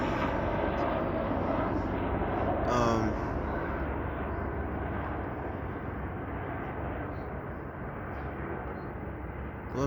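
A helicopter flies overhead, its loud broadband rotor and engine roar steady throughout, peaking briefly near the start before easing slightly.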